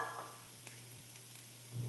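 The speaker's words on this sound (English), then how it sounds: "You can hear it sizzling." Soft sizzling and crackle of vegetables in a pan for lentil soup, fairly quiet and steady, with a brief stir or clatter near the end.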